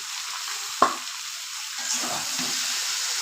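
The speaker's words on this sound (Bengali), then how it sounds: "এবার সব সবজিগুলো নাড়তে থাকবো" Vegetables with spinach and salt being stirred in a pan for a spinach and snail curry, one sharp spatula knock against the pan and then a soft frying hiss with scraping as stirring continues.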